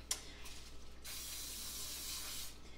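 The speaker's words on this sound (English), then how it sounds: "I also am going to spray my measuring cup, so that way the peanut butter doesn't stick" Cooking spray is sprayed into a measuring cup: a short puff, then a longer steady hiss lasting over a second, close and clear with no talking.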